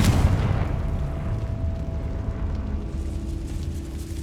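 A Confringo blasting spell from Hogwarts Legacy goes off as a loud, sustained booming explosion with a rumbling low end, holding steady for several seconds with a faint tonal hum running beneath it.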